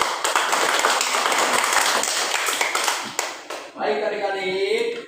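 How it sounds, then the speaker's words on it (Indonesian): Students in a classroom clap in applause for their teacher, a dense, steady burst of hand claps that fills most of the clip and then stops abruptly near the end. "Tepuk tangan dulu."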